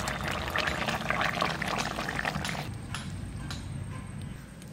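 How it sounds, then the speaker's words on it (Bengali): Katla fish and cauliflower curry is poured out of a pan. A thick liquid sloshes and splatters near the microphone, fading toward the end, with faint background sounds. "তরকারিটা এবারে ঢেলে নিচ্ছি।"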